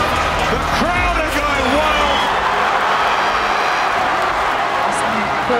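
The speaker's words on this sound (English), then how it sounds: "The crowd are going wild" A crowd roars continuously at a women's world middleweight title boxing match after a knockout. The cheering is loud and steady, with a voice speaking over it.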